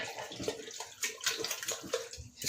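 Water is poured into minced-meat qeema cooking in a clay handi, a soft, continuous splashing trickle that stays fairly faint and close.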